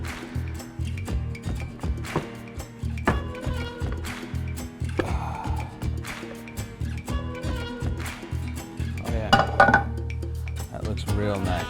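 A Spanish tortilla is flipped in a pan, with clattering pan and plate knocks and metallic clinks in an irregular rhythm, close and fairly loud in a kitchen.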